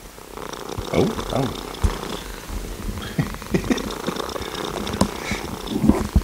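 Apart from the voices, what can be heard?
cats purring on a lap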